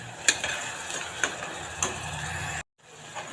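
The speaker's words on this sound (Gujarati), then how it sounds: "બધું મિક્સ કરી લઈએ થોડી વાર ટમેટાની ગ્રેવી ચડી જાય ત્યાં સુધી રાખીશું" Tomato gravy with onion being stirred in a pan for Punjabi-style rajma, a few sharp spoon clicks against the pan over a steady soft sizzling hiss, then a brief cut to near silence and quiet cooking sound again.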